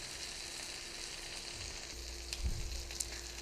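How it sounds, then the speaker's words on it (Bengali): Rohu fish, salted and coated with turmeric and chilli, fries in hot oil with a soft, steady sizzle, broken near the end by a brief clatter as a piece is moved in the pan. "মাছটাকে খুব সুন্দর করে ভেজে নিব"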